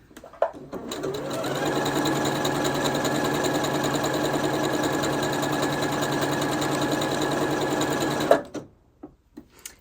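A Janome Horizon Memory Craft 8200 QC sewing machine runs at a steady fast stitching whir for about eight seconds, then stops with a few light clicks.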